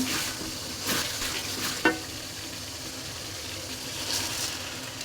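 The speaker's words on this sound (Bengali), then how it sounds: "চালটা দিয়ে দিয়েছি, লাড়াচাড়া করবো।" Rice stirred in hot oil with onions for vegetable bhuna khichuri, a continuous soft sizzle with occasional spoon scrapes and a single sharp clink partway through.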